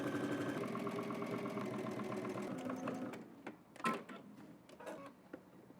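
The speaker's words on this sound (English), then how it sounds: "let's head to the machine and stitch this down" A sewing machine edge stitching the front of an oversized button-up shirt runs in a steady, continuous mechanical whir for about three seconds, then gives way to a few short, sparse clicks and handling knocks.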